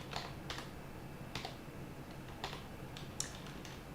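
Light, irregular keystrokes on a computer keyboard while coding on a Linux setup, a handful of separate soft clicks spread out, close and quiet with no talking.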